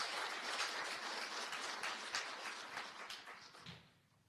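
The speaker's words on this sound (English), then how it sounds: "Let's give her another round of applause." Audience applause at a national disability policy launch, a steady wash of clapping heard from a distance that gradually fades out at the end.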